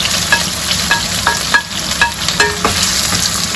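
Tofu stir-fries with fresh chili in a hot pan, a steady loud sizzle broken by several sharp scraping stirs of the spatula at an uneven rhythm.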